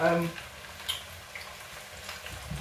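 Green plantain slices frying in hot oil give a faint, steady sizzle and hiss, with a short burst of voice at the very start.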